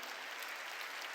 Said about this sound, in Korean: 박수로 하나님께 영광 돌리고